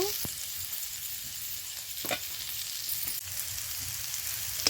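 Masala chow mein ingredients fry in oil in a pan, giving a steady, close hiss of sizzling with a few brief stirring scrapes and no voices.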